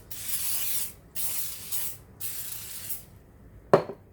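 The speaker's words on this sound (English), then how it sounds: "So first of all, I just spray them with some oil." Three long hissing bursts from a cooking oil spray nozzle onto pastry trays, close by, each about a second long, followed by a short clunk.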